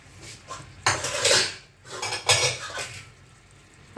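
A metal lid clatters onto a cooking pot of ghugni in two main bursts of clanking and scraping, with quieter handling sounds between them and no voices.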